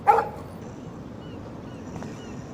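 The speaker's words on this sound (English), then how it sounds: "No barking." Dog in the video game Life is Strange, giving one short sharp bark at the start, then faint room noise and a soft sound near the end.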